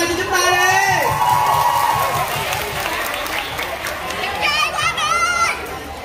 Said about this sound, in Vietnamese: Cho một tràng pháo tay cho chúng ta đi.